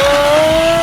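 An RC plane's electric motor at full throttle on takeoff gives a loud, steady high whine that rises slightly in pitch over a constant buzzing drone, with no talking.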